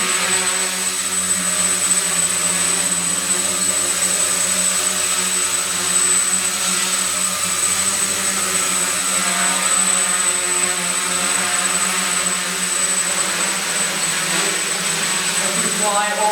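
A quadcopter with rangefinders flying indoors and steering around an obstacle, giving a constant, loud, even buzzing whine of rotors that holds steady throughout at close range.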